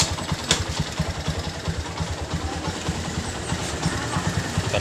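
A Honda Mega Pro motorcycle engine idles in neutral, a steady low, pulsing putter that stays even and close throughout, with no voices over it.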